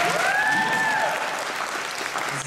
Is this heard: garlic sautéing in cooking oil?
no